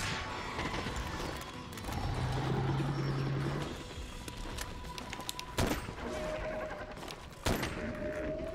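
Light bowgun fire in Monster Hunter World, a steady run of rapid shots against a monster amid game effects and music, with two sharper, louder reports standing out near the end.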